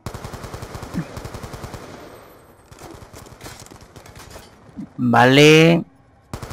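Rapid bursts of gunfire from Call of Duty Black Ops II, with a sniper rifle in play, rattle out in close, fast clusters over the first seconds, then a loud blast near the end, with a voice speaking briefly.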